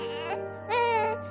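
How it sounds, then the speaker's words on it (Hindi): A newborn baby cries from inside a large garbage bin outside a building in two short wailing bursts with a pause between them. The cry sounds thin and somewhat distant, with no talk over it. "अरे ये कौन रो रहा है?"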